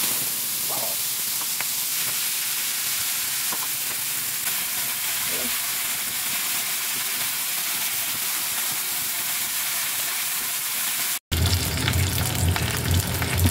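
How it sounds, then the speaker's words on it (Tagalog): Pork leg (pata) searing in hot cooking oil in a wok-style pan, giving a loud, steady sizzle and crackle that runs unbroken without talk, then shifts abruptly to a harsher hiss near the end. "Ngayon po guys ay i-sear muna natin yung ating pata."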